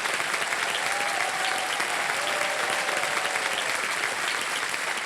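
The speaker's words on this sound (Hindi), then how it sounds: "ताली बज जाए इनके नाम" Studio audience on a Hindi quiz game show claps continuously, a dense, even burst of applause that stays loud and steady from start to finish with no voices above it.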